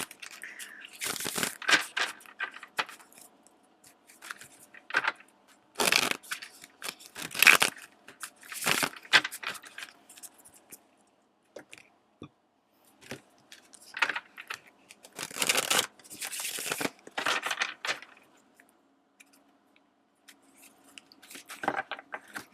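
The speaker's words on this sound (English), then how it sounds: "let's shuffle your tarot out before I pull those out" Tarot cards are riffled and shuffled in repeated crisp bursts of papery flicking and slapping, close by, with short pauses between shuffles.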